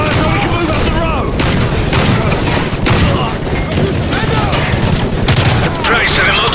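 Dense gunfire in the Call of Duty: Modern Warfare video game, a continuous loud barrage of shots and booms from a firefight on a road, with shouted voices mixed into the noise.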